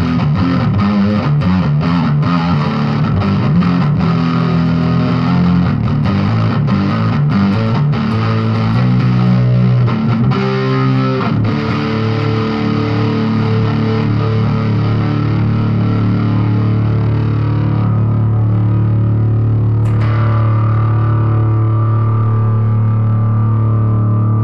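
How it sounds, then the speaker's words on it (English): A distorted electric guitar plays chords and riffs through a Line 6 Spider III 15-watt practice amp, gritty and sustained, ending on a long ringing low note. "Some distortion."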